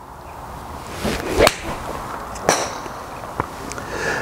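A TaylorMade M CGB cast iron strikes a golf ball in a sharp, loud crack, followed by a second fainter impact a second later and a small tick afterward, set against low outdoor background noise.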